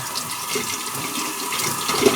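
Water runs steadily from a tap, flushing through a hand soap pump nozzle at a sink, a constant close rushing splash with no talk.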